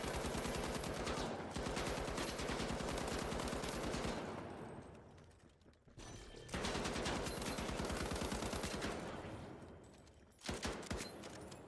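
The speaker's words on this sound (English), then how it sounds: "The gunshots are loud." Rapid automatic gunfire in a shooter video game rattles out in long loud bursts, breaking off into a fading tail and brief silence before firing resumes, then a final short burst.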